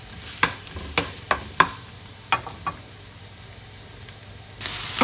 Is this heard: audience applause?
no